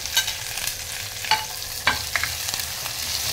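Onion sizzling in a pan with green chilies and curry leaves, a steady light crackle of frying broken by a few sharp stirring scrapes, close and fairly quiet with no talking.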